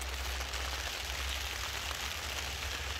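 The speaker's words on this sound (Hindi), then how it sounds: "वो देखें कितनी तेज़ी से बारिश आ रही है" Heavy rain pours down steadily around a desert mud house in the morning, a dense, continuous hiss with a low rumble underneath, loud and unbroken throughout.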